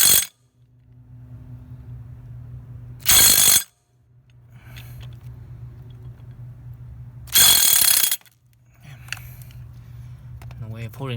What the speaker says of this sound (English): I've got to tighten up the nut